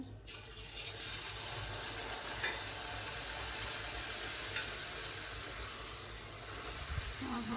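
Puri dough sizzling in smoking-hot, fully heated oil, a steady soft hiss and crackle of frying throughout, fairly quiet with a few faint clinks of utensils.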